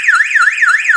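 Loud mains power failure alarm from a speaker gives a continuous warbling electronic siren that sweeps up and down rapidly and evenly, close and alone.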